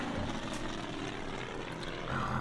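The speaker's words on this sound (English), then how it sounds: "Let's bring in the aircraft" Steady propeller aircraft engine drone from the World War II strategy game Order of Battle: Blitzkrieg, a continuous broadband hum holding level for a couple of seconds with no talk.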